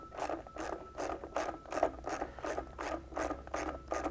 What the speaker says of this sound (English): You're going to use your 10mm socket, and you're going to find, basically there's going to be 6 nuts underneath here.